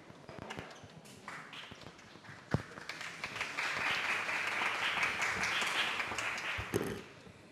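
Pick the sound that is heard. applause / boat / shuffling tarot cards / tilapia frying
applause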